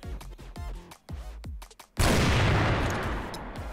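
Gunfire in the shooter game CrossFire: a few rhythmic shots first, then a loud, dense sustained burst of weapon fire that slowly fades.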